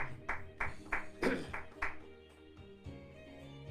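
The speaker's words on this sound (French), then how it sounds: "Applaudis, applaudis, applaudis, applaudis. Applaudis très fort." An audience at a church service applauds for Jesus in quick rhythmic claps, fairly faint and close together, before the clapping fades into a softer background.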